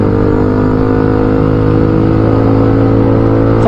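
A manual transmission motorcycle engine runs steadily and loud up close, a sustained droning tone that holds at one pitch and then rises sharply at the very end as the throttle opens.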